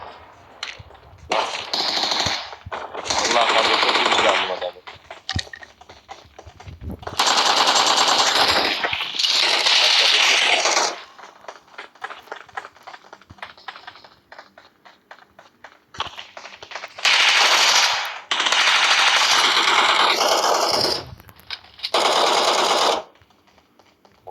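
Bursts of automatic rifle fire from the video game PUBG on the Erangel map, several long loud volleys separated by short gaps and occasional single shots.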